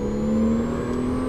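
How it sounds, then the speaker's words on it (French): A steady engine drone with a strong, even tone, a Porsche Cayman S holding high revs at full throttle, close and loud for the whole moment. "Allez, on continue à accélérer encore."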